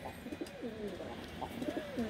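A pair of Giribaz high-flyer pigeons coo in repeated rolling phrases, close and clear over a light background hiss, several calls in quick succession.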